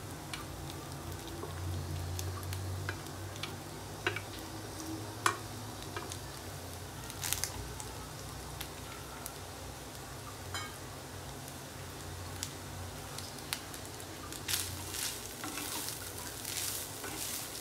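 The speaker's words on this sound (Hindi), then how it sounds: "इसे 2 से 3 मिनट भूनेंगे मीडियम टू लो फ्लेम पर।" Grated coconut roasting in ghee in a pan gives a soft, continuous sizzle, with occasional light scrapes and taps of a spatula as it is stirred over medium-low flame.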